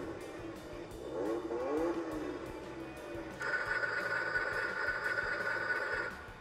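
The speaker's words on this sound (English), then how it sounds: "you'll notice some revving up engine sounds there" A Toyota Tundra ride-on toy truck plays a simulated engine revving effect, rising in pitch, then a sustained higher electronic engine whine, moderately loud and close.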